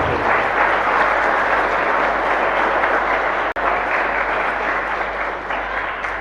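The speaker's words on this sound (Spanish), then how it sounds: "Un aplauso para el Padre" Steady, dense applause from a congregation for the priest during Mass in a chapel, a continuous loud roar of many hands with one brief dropout midway.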